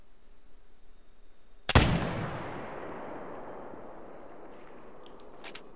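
A single loud rifle shot cracks out while hunting a bull in the New England mountains, its boom rolling away in a long echoing decay across open terrain, with quiet ambience before and after.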